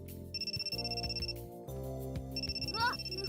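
An incoming-call ringtone sounds on a phone in the Amnesia: Memories game, a bright repeating melodic chime in two bursts, with a voice reacting briefly near the end.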